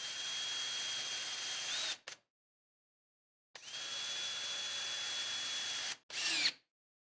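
Cordless power tool running in two sustained bursts with brief blips after each, driving mounting bolts into a replacement motor on a towable bi-rotational hydraulic slide-out pump; a fairly quiet close whir with silence between.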